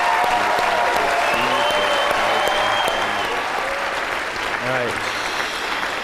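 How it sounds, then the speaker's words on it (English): Audience applause filling the room, dense steady clapping from a large crowd continuing throughout, with someone speaking briefly over it. "Give him a round of applause"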